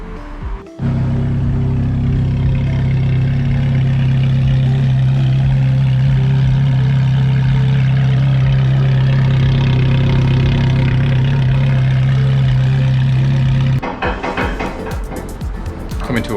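A modified manual Ferrari F430 idles loudly and steadily nearby with a deep, even drone. Near the end it breaks off into a sharper, noisier burst.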